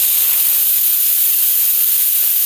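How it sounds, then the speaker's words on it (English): Steam vents from a pressure cooker's release valve in a kitchen, a loud, steady, close hiss that runs unbroken for the full duration, with no talking. "And our steam is going to release."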